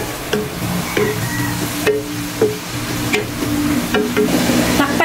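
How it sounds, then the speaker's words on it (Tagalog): Meat being stirred lightly in a pan with a splash of soy sauce for tokwa't baboy, with spoon scrapes and clinks at intervals over a steady background sizzle. "Haluin lang natin na very light."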